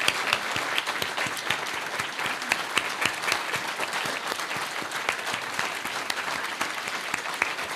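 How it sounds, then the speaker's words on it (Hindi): A crowd at a book event gives sustained, dense applause for Ali Abbas, steady and even throughout with no speech on top. "अली अब्बास तालियां बजाइए।"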